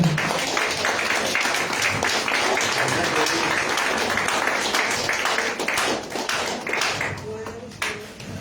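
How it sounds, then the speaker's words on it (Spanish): Applause from an audience at a cultural gathering in Tultepec, Mexico, with sharp close claps and taps over a busy crowd, thinning toward the end as some voices emerge. "Vamos a recibir con un fuerte aplauso"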